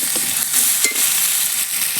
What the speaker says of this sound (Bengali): দিয়ে আলুগুলোকে ভালো করে একটু ভেজে নেব